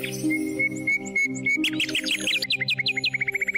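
A pet parrot chirps and whistles close by, first a long steady tone, then a quick run of sharp rising chirps that ends in rapid repeated notes.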